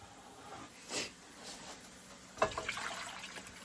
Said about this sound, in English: So now we're going to add our broth.